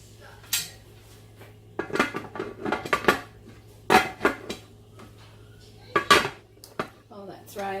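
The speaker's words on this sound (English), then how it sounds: "I'm just going to go ahead and put the lid on now." A metal lid goes onto a pressure canner packed with jars of home-canned mushrooms, giving loud clanks, scrapes and rattles in several bursts over a low steady hum, with a voice speaking briefly.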